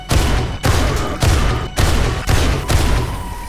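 Rapid, loud bursts of gunfire from an overpowered gun in the zombie survival game 7 Days to Die, six heavy shots at a steady pace, each with a short booming tail.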